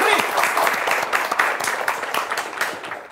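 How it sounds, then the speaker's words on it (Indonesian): Enthusiastic applause from a crowd, dense clapping that fades slightly toward the end, with voices mixed in beneath it. "Tepuk tangan dulu buat Evo Street."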